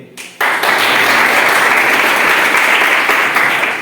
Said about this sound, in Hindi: आप सब एक बार तालियों से।